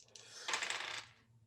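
Dice clatter and rattle across a surface for about a second during a Call of Cthulhu tabletop roleplaying game firearms test, a short bright tumbling sound with no talk over it.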